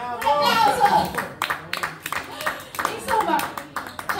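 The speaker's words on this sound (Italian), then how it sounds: "Un applauso!" Audience applause at a stand-up comedy show in Padova, a burst of clapping from a crowd lasting several seconds, with scattered voices mixed in.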